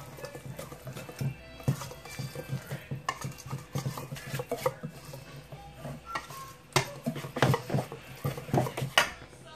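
A utensil works flour into chocolate cake batter in a bowl. The sound is rhythmic, close and uneven, with soft scraping and sloshing strokes and occasional clinks against the bowl, and no voices.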